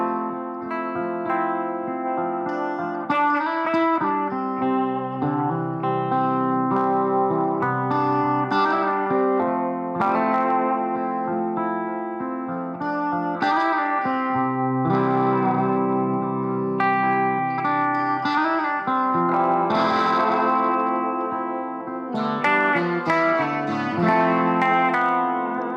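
Electric guitar riff played through effects pedals in a shoegaze style, washed in distortion, reverb, echo and chorus, with sustained layered chords and melodic lines ringing steadily and loudly throughout, no talking.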